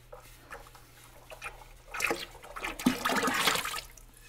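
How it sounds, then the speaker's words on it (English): Liquid ceramic glaze is poured and sloshed inside a pot, a soft irregular splashing and gurgling that builds in the second half, close and alone without talk. "Now I'm just trying to glaze the inside of the pot. So I'll pour all that in there."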